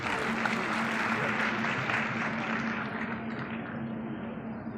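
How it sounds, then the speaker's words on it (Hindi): A crowd at a BJP women's wing workshop in a Karnal auditorium applauds in a steady, dense burst of clapping that slowly fades toward the end. "ताली।"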